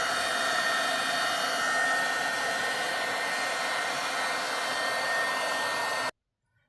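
A hair dryer blows steadily at close range over a wet painted panel, a loud continuous hiss for about six seconds before cutting off abruptly into silence.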